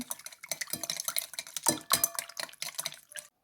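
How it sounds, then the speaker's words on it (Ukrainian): Rapid, rhythmic clinking of a whisk beating eggs with salt and sugar in a bowl, steady and close, with no voices. "Все добре розколочимо вінчика."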